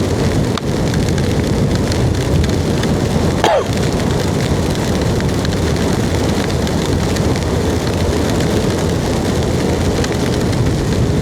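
Steady rain falls on a rural Indonesian village with traditional stilt houses and bamboo-strung power lines, a continuous broadband hiss throughout, with a brief low thump partway through.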